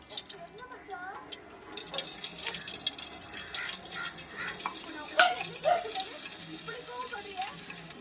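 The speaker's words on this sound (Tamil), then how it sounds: "எண்ணெய் ஊற்றுறேன் பாருங்க" Cooking oil trickles from a container into a pan in a home kitchen, a light continuous pouring splash with small bubbling spurts, while a voice is faintly heard in the background.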